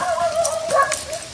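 A dog near a village house gives a quick series of high, yelping barks and whiny yips, close and fairly loud over faint background noise.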